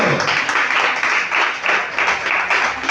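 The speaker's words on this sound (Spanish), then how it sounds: "Den un aplauso al Señor." A congregation at a church service bursts into sustained, dense applause, loud and close, lasting throughout with no pause.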